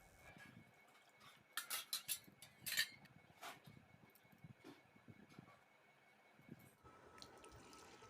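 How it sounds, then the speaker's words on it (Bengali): Flattened rice (chira) is washed by hand in water, giving faint splashes and drips with a few louder sloshing bursts in the middle, quiet and close. "এখন আমি চিড়েগুলোকে ভালো করে ধুয়ে পরিষ্কার করে নেব।"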